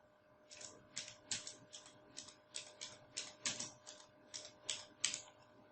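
Rapid, uneven keystrokes on a computer keyboard while HTML code is typed, a dozen or so crisp clicks in short bursts, close and fairly quiet, with no talking.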